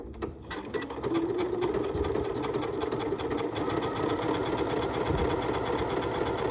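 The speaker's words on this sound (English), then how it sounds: "And now I'm going to create my buttonhole." A Janome MC9450 sewing machine running steadily while stitching a buttonhole, a close, continuous mechanical whir with fast rhythmic needle ticking that starts up after a brief quieter moment.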